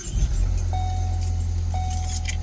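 A car with a 6-speed manual gearbox and about 134,000 miles starts up: a brief key jingle and crank, then the engine settles into a low, steady idle close by.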